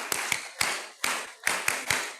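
An assembled audience at a university inaugural ceremony claps together in a patterned rhythm for its founder, with paired unison claps recurring about every half second, full and reverberant, with no talking.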